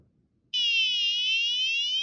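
An electronic alarm siren buzzer, triggered by a LoRa PIR motion sensor, switches on abruptly after a moment of quiet and holds a loud, steady high-pitched tone until the end.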